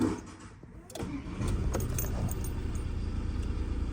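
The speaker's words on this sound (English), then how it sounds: "I'm going to switch off the car and I'm going to start the car" A Volkswagen Tiguan engine cranks and catches after a brief jingle of keys, then settles into a steady idle, following a NOx sensor replacement.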